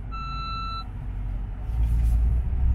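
Reversing sensor in a Mercedes E63 S AMG sedan beeping in a steady high-pitched repeated tone, heard briefly over a low engine and road rumble before fading out.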